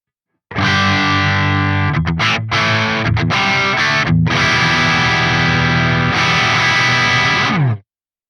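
Heavily distorted electric guitar chords through a Soldano SLO-100 tube amp with gain at 7 ring out loud and saturated, with a few brief stops between strums, then sustain and cut off.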